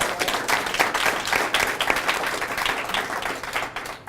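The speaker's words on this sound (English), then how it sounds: "Can we give them a round of applause for all of their work?" A crowd applauds steadily for a few seconds at an elementary school breakfast event, a dense wash of clapping hands at moderate distance.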